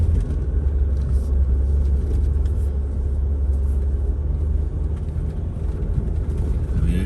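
A stock 2021 diesel Jeep Gladiator Rubicon engine lugs while towing an off-road trailer, giving a deep, steady rumble and drone with road noise in the cabin.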